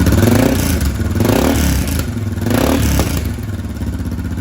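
Suzuki DR650 motorcycle with an aftermarket stand-tune exhaust revving loudly and close up, throttle blips rising and falling in quick succession with some mechanical clatter and no talk.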